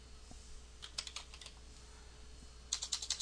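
Two short bursts of clicking keys on a computer keyboard, quiet and close in a still room, with a pause between them and no talking.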